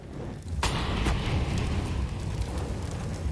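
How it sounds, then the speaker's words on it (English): Molotov cocktail flames burning on Inferno in a Counter-Strike match, a sudden bright whoosh of ignition followed by steady roaring crackle that stays loud and close throughout. "Good timing on the Molotov"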